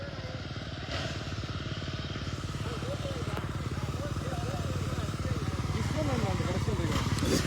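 Motocross motorcycles running on a dirt track, engines revving and rising in pitch continuously, with a voice talking over the engine noise throughout.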